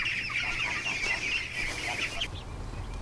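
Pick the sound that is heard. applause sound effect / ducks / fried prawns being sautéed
ducks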